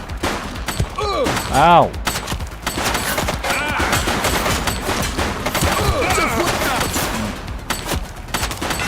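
Rapid gunfire bursts in The Precinct, a crime detective game, crackling loudly and densely throughout alongside engine and siren-like tones, with a brief exclamation and spoken voices mixed in.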